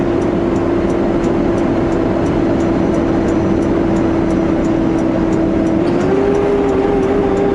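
A truck's engine drones steadily as the driver lightly drags the brakes at about 5 psi before a downshift, a loud continuous hum that shifts slightly in pitch near the end, with no talking.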